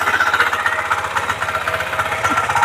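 A power tiller's engine runs in second gear with a rapid, loud chugging beat, steady and close, with no talking over it.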